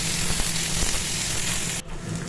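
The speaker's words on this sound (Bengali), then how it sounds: "যেটুকুনি তেল আছে এর মধ্যেই কিন্তু আমি বেগুনগুলো ভেজে নেব" Eggplant slices fry in the leftover oil of a pan just used for fish, a steady close-up sizzle that breaks off sharply near the end and then resumes more quietly.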